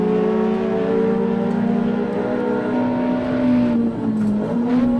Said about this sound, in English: Super lively motor. Used to rev like a street bike.